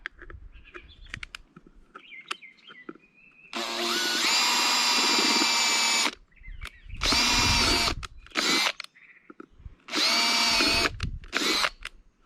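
Power drill boring drainage holes in a thin plastic dollar-store planter: several loud whirring bursts of a few seconds each, separated by quiet gaps with faint handling noise, close up.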